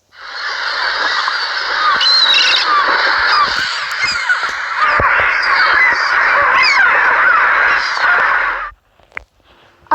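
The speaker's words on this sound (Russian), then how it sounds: "Чайка." A dense, loud chorus of raucous gull calls overlaps continuously for about nine seconds, then cuts off abruptly.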